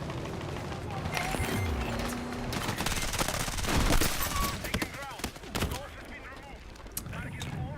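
Vector submachine gun with an extended magazine fires in Battlefield 6 amid a busy battle, with rapid bursts and scattered shots from other weapons, loud and close at times, while a player talks over the gunfire.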